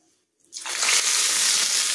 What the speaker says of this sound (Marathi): आणि आता ही फोडणी आपण आपल्या टोमॅटोच्या सारवर